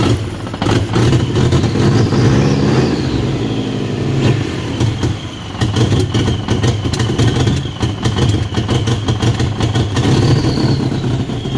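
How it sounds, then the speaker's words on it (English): A Subaru WRX Brat engine runs rough and starved for fuel, with a knock. It drones loudly and steadily at close range for the whole stretch, with small surges and a faint whine riding over the rumble. "Shut this off because I hate the sound of it knocking."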